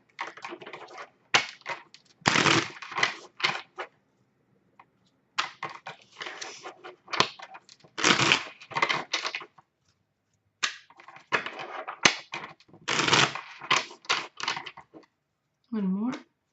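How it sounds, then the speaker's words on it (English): Tarot cards from a Thoth-style deck are shuffled and handled in quick bursts of riffling and slapping, with short pauses between rounds, close and fairly clear, with no speech over them. "Just shuffle it a few times and cut the deck."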